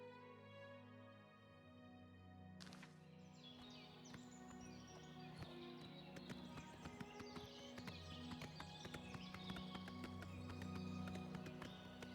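A horse gallops in the video game Oblivion Remastered, with rapid, steady clip-clop hoofbeats over game music and birdsong throughout.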